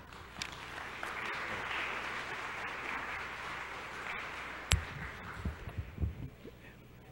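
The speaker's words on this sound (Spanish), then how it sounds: "Un aplauso para el doctor." Moderately faint, even applause rises from an audience at a science lecture, holding steady for several seconds before breaking into a few louder knocks and thumps as it dies away.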